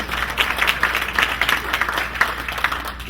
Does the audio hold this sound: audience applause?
yes